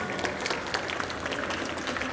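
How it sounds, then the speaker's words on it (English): Warm applause from a live show audience at the London ExCeL welcoming a volunteer onstage, steady dense clapping filling the whole stretch at moderate level with no voices on top. "Give her a little warm applause."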